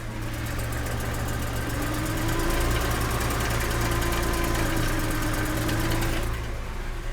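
A Mercedes W210 engine idles roughly after an oil change, a steady, close rumbling hum with a fast ticking pulse and slight rises in level, no talking.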